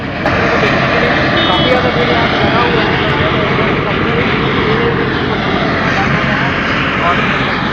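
An airplane engine runs close by with a loud, steady, broadband roar that holds unchanged throughout, drowning out other sound.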